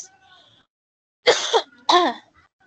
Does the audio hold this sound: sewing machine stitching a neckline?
no